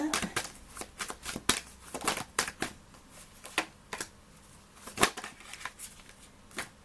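Playing cards shuffled and drawn, crisp irregular snaps and flicks close by, quiet with pauses between bursts.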